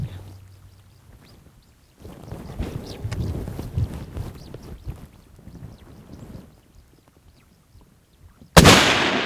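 A single sharp rifle shot cracks loudly near the end during a whitetail buck hunt, following a stretch of quiet rustling and movement.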